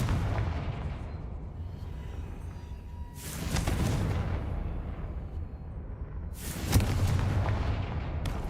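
In the Hogwarts video game, a Confringo spell explodes twice as two heavy, booming blasts a few seconds apart, each rising from a low background murmur.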